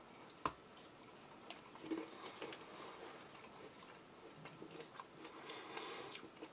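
A pickle from a Chinese PLA Type 13 emergency ration is chewed close to the mouth, giving quiet, moist squishing and crunching with scattered sharp clicks and ticks over a few seconds.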